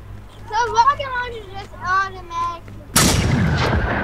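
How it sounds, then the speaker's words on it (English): Automatic gunfire from the video game Generation Zero bursts in loud and sustained for the last second, after someone talks excitedly over quiet game sound. "put up a different gun then, so it don't automatically shoot"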